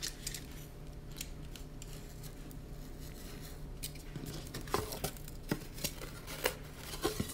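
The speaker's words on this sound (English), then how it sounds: "I started by cutting 20 by 20 on each poster board" Scissors cutting through poster board, faint snipping at first, then sharper, louder cuts recurring every second or so toward the end.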